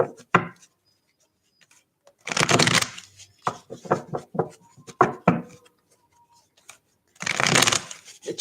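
Tarot cards being shuffled during a reading, with two loud riffling bursts and scattered softer card handling, slaps and taps in between, close and without talk.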